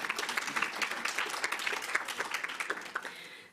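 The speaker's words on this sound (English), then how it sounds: "We give a little clap." A small conference audience gives a light round of clapping, with distinct individual claps in a loose patter that gradually thins and fades out.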